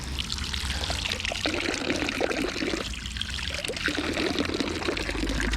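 Water pours steadily from a public water fountain in Montriond near Morzine in the Portes du Soleil, a continuous close splashing rush that stays even throughout with no voices.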